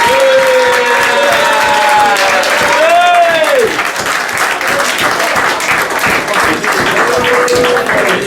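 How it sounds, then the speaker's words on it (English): Loud, sustained applause fills a football club presentation evening, with the crowd clapping and cheering steadily throughout while voices call out over the noise. "Please, big round of applause, Gary Clark."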